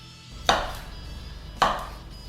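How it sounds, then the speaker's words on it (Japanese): A knife cuts through a block of bacon on a board, two separate sharp thuds about a second apart, close and clear against a quiet background. "次、ベーコンも同じぐらいの大きさに切っていきます。"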